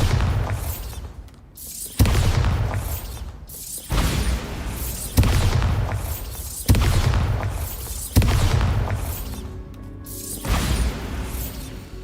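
Repeated Bombarda spell blasts in the video game Hogwarts Legacy, about six heavy booming explosions spaced roughly every two seconds, each a loud deep impact that decays into rumble before the next one lands.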